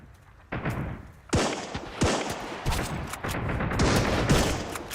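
Heavy 50 caliber machine gun fire in the Sunkenland game, with several loud bursts and sharp reports spread across the stretch, building into near-continuous firing toward the end.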